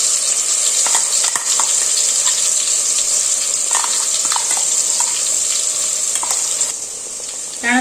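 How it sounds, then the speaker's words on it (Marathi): Ground masala paste with coriander leaves frying in hot oil for a chicken dish, a loud continuous hiss with intermittent spatter bursts and stirring, easing slightly near the end. "गरम झाले तेल आपण हे सगळं मसाला जो आहे चांगला फ्राय करून घेऊ"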